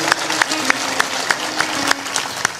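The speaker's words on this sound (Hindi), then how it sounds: "तो ताली जोर से बजाना चाहिए" A spiritual talk audience claps loudly in a dense, sustained round, while a voice speaks over the applause, with a few sharper claps standing out.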